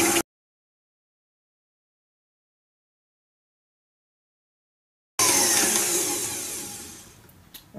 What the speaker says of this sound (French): Pendant ce temps, on va blanchir les œufs.